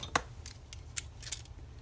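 Scissors snipping apart paper catalog pages, several crisp separate cuts in an uneven rhythm, close and fairly quiet with no talking.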